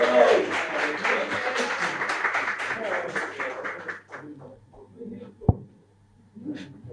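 A crowd at a youth internet governance forum claps and applauds steadily for several seconds, then the clapping fades out, with a sharp knock and some talk near the end.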